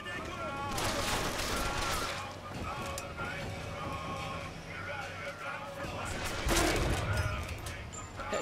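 Several sharp gunshot bursts from a weapon in Bioshock Infinite ring out at close range over a busy game soundscape, with a voice talking throughout.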